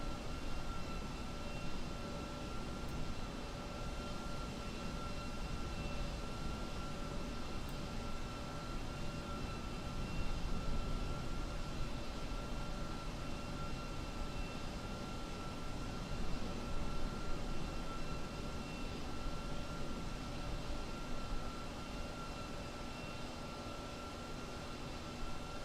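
TWA MD-11 jet airliner engines in Microsoft Flight Simulator, a steady, even drone with a constant whine, continuous and unchanging for the whole stretch with no voices.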